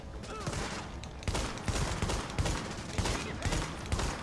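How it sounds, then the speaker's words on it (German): Rapid bursts of gunfire in The Division, a dense fusillade of repeated shots with sharp loud onsets throughout, with a voice speaking over it at moments. "Alter, ich schieß mit allem, was ich habe."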